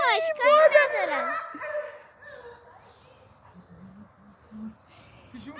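A dog whimpers and yips in a high, wavering whine that is loud at first, then fades into softer short whines and low sounds, with people talking nearby.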